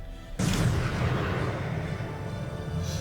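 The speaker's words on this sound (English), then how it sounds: "Big bomb." A big bomb blows up in an animated Justice League film, one sudden heavy boom followed by a long, loud, rumbling roar that slowly fades.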